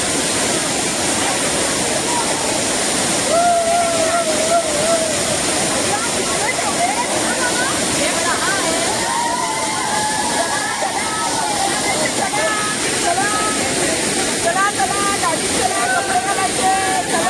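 The Savdav waterfall near Kankavli roars steadily and loudly throughout, a dense unbroken rush of water with faint voices beneath.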